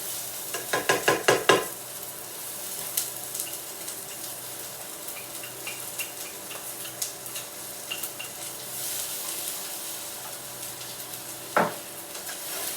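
Quinoa stirred in a hot pan while making quinoa risotto: a quick run of spoon clicks against the pan, then a steady, close sizzle that carries on alone, with a single sharp knock near the end.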